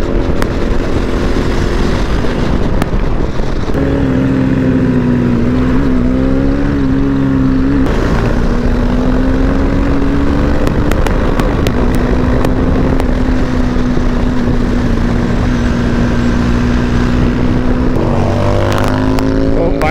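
A GT motorcycle fitted with an aftermarket exhaust rides along, its loud, raspy engine note droning continuously with a steady buzzing pitch and some gusty rumble throughout.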